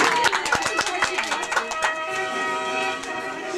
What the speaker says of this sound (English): And let's have a round of applause for Marissa on her birthday.